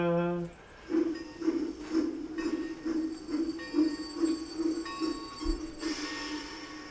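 A person imitates a train with their voice, making a steady, rhythmic chugging that repeats for several seconds at close range.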